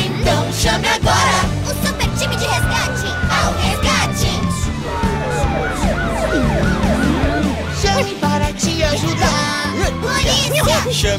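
An ambulance siren wails with rising and falling glides inside a busy children's rescue-team song, sitting under dense music and lively children's voices throughout.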